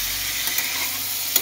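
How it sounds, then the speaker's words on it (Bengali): Mixed vegetables with spices sautéing in a pan, giving a close, continuous frying sizzle with a few faint spatula scrapes and taps. "দিয়ে এবার কষিয়ে নিচ্ছি"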